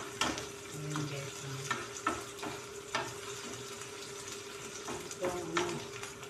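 Hotdog and egg frying in a pan make a steady crackling sizzle, with a constant hum and scattered clicks and scrapes of a utensil over it; close and moderately quiet, with no talking.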